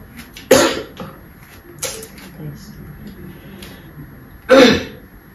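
Three sharp coughs, close and loud, spaced a few seconds apart, with quiet background between them.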